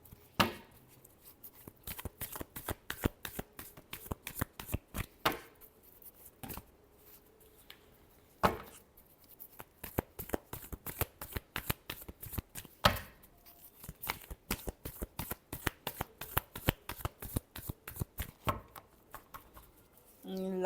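Tarot cards being shuffled by hand, a long run of quick crisp riffling snaps and slaps in an uneven rhythm, close and fairly quiet, with a few heavier thumps scattered through.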